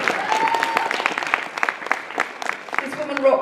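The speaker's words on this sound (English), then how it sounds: "give her a round of applause" A convention audience at a fan panel applauds a guest, with a thick layer of clapping and sharp individual claps. Voices, a whoop and some chatter rise over the clapping, which ebbs slightly before swelling again near the end.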